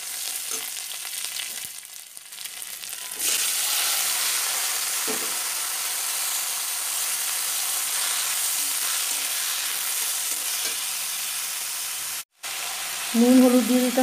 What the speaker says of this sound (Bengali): একটু নেড়ে চেড়ে সেদ্ধ করা এঁচোরটা দিয়ে দিতে হবে।